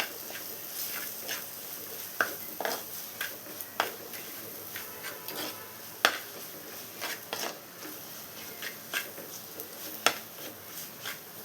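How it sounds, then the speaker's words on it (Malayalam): Spoon scraping and tapping against a pan while spice powders are stirred for a coconut-milk Kerala fish curry, giving irregular light clinks and scrapes at moderate level with no talk. "എല്ലാം കൂടെ ഒന്ന് ഇളക്കിയെടുക്കണം."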